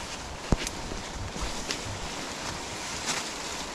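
Wind gusts across a mountain hiking trail on Mount Wilis in Madiun, a soft, steady broadband rush with occasional brief buffets against the microphone and no talking.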